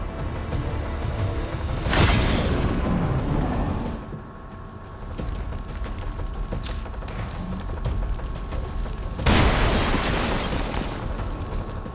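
Explosions in the video game XCOM 2, two loud booming blasts several seconds apart, each with a rumbling decay over continuous background game noise.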